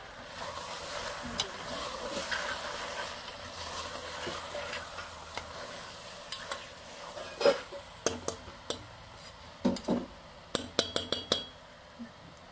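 Mutton curry being stirred in a metal pot: a spoon scrapes and clinks against the pot in a quiet, uneven series of taps that grows busier toward the end, over a faint low sizzle.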